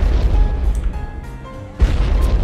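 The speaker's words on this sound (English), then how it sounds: "you know it's a bad thing, because explosions are playing" Explosion sound effects from a video game made in Unity, loud low booms and rumbling bursts that fill the whole clip, with a short gap before a renewed heavy blast near the end.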